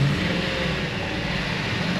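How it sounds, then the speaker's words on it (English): A Ford F150 with the 4.6 engine revs roughly and poorly, a steady close mid-pitched engine drone sustained for two seconds with no clear rise in pitch. "It didn't even rev up very well either."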